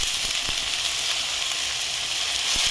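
Leafy greens sizzle steadily in a pan with onions roasted half golden, a continuous bright frying hiss with a few faint stirring knocks.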